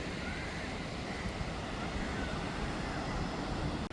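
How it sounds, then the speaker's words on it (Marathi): Sea waves wash continuously at Bhatye beach in Ratnagiri, a broad steady surf roar mixed with wind buffeting the microphone, fairly faint and without any clear speech. "भाटे बीच हा भाटे बीच भाट्टे समुद्रकिनारा बघा"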